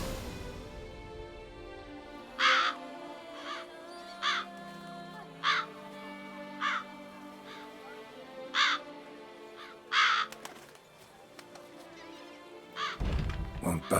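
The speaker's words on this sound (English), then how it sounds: "A lot of crows." Crows caw in The Witcher 3, about ten harsh, evenly spaced calls over a low ambient game score, fairly loud and close, ending with a heavy thump.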